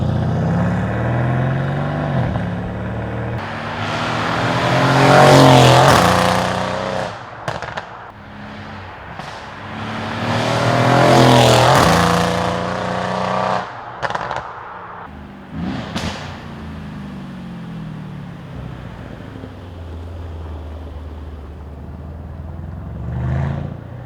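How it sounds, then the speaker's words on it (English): Mercedes-AMG estate car engine revving in a parking lot, two loud rising-and-falling revs with crackling pops and bangs on the overrun, then a rumbling idle that swells again near the end. "I'll make sure to run some clips of what this car actually sounds like."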